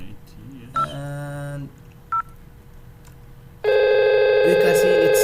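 Telephone DTMF dialing tones placing a call to a VoIP extension on a campus network: a few short keypad beeps, then a loud sustained multi-tone signal at the end, with brief speech near the start.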